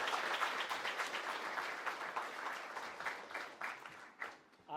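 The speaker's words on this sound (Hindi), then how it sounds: "एक बार तालियों के साथ पुलिस सर का स्वागत करिए।" Audience applause welcomes a police officer at a career guidance event, a dense steady clapping that fills most of the span and thins out near the end.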